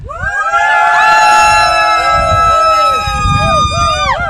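A couple of people whoop and cheer with rising and falling voices, trying to sound like a much larger crowd at a small Parkrun Adventurers listener meetup in Shell Harbour, loud and continuous throughout.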